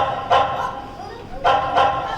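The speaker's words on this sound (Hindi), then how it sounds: "वह किसी भी अजनबी को देखकर भौंकता था।" Hunting dog barking as a sound effect, three short sharp barks, one early and two close together near the end, loud over a faint background.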